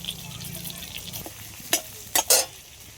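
Grated ginger sizzles in butter in a kadai, a steady close frying hiss broken near the end by a few sharp scrapes and clanks of a spoon stirring against the pan.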